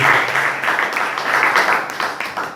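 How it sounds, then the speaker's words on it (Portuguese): A church congregation claps in praise during an evening service, a loud, close wash of applause with uneven pulses over a couple of seconds, fading slightly toward the end. "Se você puder aplaudir o Senhor nessa noite, aplaudir em nome de Jesus."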